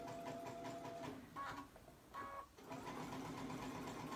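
A sewing machine stitches along lace during lace shaping, its steady close-up whir and rapid needle rhythm running almost throughout, broken by two short pauses in the middle before resuming, with no voices.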